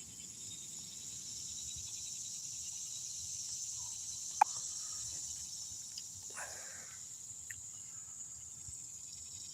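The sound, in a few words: cicadas chirping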